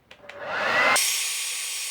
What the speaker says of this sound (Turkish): Sensörlerin içinin tam kuruması için saç kurutma makinesi kullanacağız.